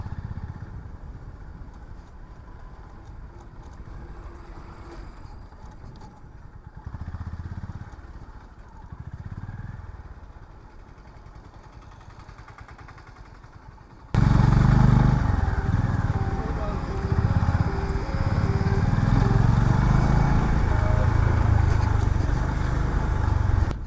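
A Honda CB 350 motorcycle on a highway ride rumbles steadily with wind buffeting, its engine note rising and falling with throttle changes, becoming much louder and rougher in the second half.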